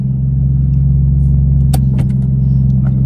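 A Nissan Skyline R33 turbo with a newly installed fuel cell runs while driving: a loud, steady low engine drone from inside the car, with a few faint clicks and rattles.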